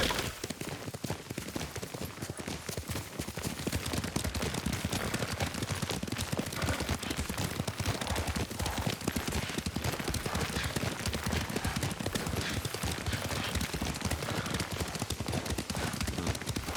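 Galloping horse hooves in Ghost of Tsushima, a steady dense clip-clop rhythm carrying through the whole stretch at a loud, even level over a busy background with no talking.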